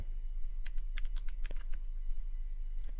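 Keystrokes on a computer keyboard as a networking command is typed, a quick cluster of sharp clicks in the middle and a single faint tap near the end, over a steady low hum.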